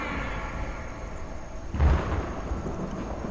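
Greybeards' summoning shout in Skyrim: a deep, booming rumble that bursts in after a quiet ambient stretch, followed by a thundery, reverberant roll that lingers in the distance.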